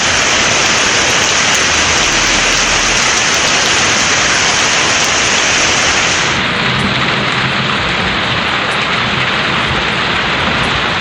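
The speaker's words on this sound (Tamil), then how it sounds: "நீலகிரி மாவட்டம் கூடலூர் சுற்றுவட்டார பகுதிகளில் 1 மணி நேரமாக கனமழை பெய்தது." Heavy rain pounding down around Gudalur in the Nilgiris district of Tamil Nadu: a loud, dense, unbroken roar of downpour filling the whole recording, with no voices.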